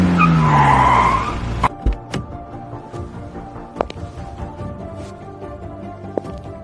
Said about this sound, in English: when a car pulls up.